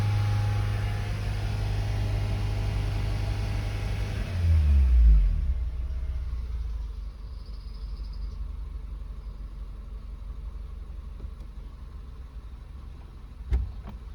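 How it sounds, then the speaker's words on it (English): A turbocharged 8th-generation Honda Civic fitted with Acura RDX 410cc fuel injectors runs fully warmed up, with a steady engine rumble at close range. A brief rev swells and drops back to a smooth, even idle. "Car's warmed up now."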